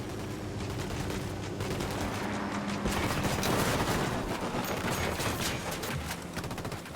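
Sustained gunfire rattles through a Ghost Recon battle, dense overlapping shots forming a continuous barrage over a low rumbling background for about seven seconds.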